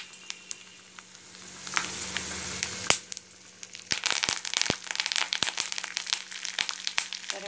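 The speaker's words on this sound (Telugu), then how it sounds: "వేగుతున్నాయి కదా, చిట్పట్లాడుతున్నాయి." Peanuts frying in hot oil in a pan for a Telugu carrot fry, crackling with a busy sizzle and sharp irregular pops that grow denser toward the end, close and alone.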